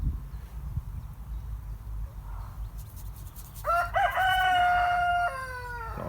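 A rooster crows once at close range over a low background rumble, its call rising then trailing off.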